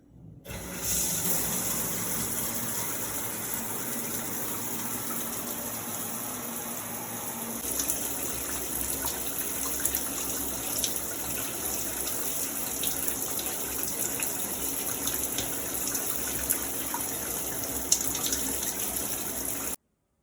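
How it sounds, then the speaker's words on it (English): Cold tap water runs steadily for about twenty seconds while hair is being rinsed, a loud continuous gush with splashing that shifts slightly partway through, and no speech. "now I'm going to wash my hair out with cold water"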